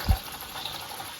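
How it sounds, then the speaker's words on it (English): Water runs steadily from a tap in a continuous broadband hiss, with a soft low thump near the start and no voices. "So I'm just running the water,"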